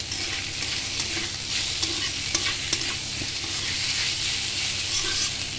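Boiled, spiced lentils frying with salt and chili powder in a pan, a continuous crackling sizzle with occasional scraping stirs, close and steady for several seconds with no talking.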